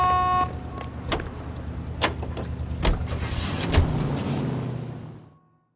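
A car drives in the video game L.A. Noire, a steady engine drone with a few sharp clicks and thumps over it, fading out at the end.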